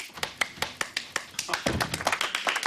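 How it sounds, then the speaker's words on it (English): A small group claps by hand at a home book club, quick sharp claps in a loose steady rhythm that thicken into a brief overlapping patter, close and fairly loud. "Oh, no need to applaud."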